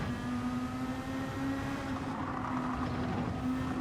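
Race car engine in Gran Turismo 7 held at a steady, loud drone with a strong tonal hum, continuous throughout with no talk over it.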